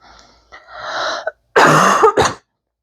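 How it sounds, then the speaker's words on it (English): A couple of harsh, breathy bursts like coughs or throat clearing, close up, with a short pause between them and no talking. "I'm pretty sure it's just allergies because I literally only have a cough."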